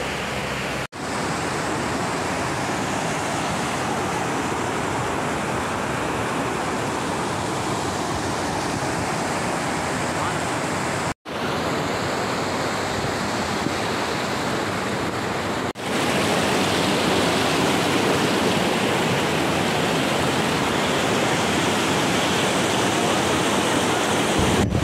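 A powerful mountain waterfall near Abbottabad, Khyber Pakhtunkhwa, roars with a steady, loud, broadband rush of falling water that continues unbroken throughout, with no voices.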